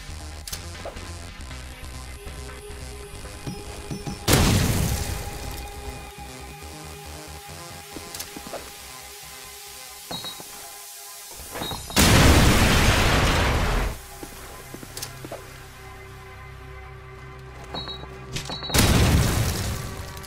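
Grenades explode in Call of Duty 4 ProMod, three loud booming blasts spaced several seconds apart over quieter game ambience.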